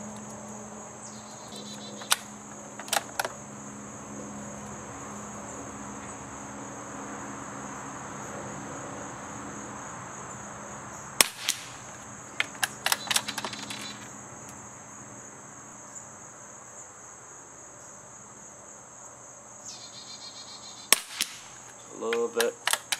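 A Tikka T1x .22 rifle fitted with a suppressor fires a group of shots outdoors: sharp, muffled cracks come singly and in small clusters over a constant, loud drone of chirping crickets.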